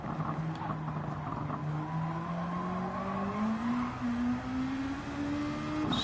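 Race car tires skidding while oversteering at Suzuka in a racing video game, a continuous squeal rising steadily in pitch over a constant engine drone, close and fairly loud.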